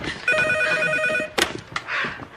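A telephone rings indoors during a dramatic film scene based on a true story: one clear, sustained electronic ring, followed by a few brief knocks and rustles.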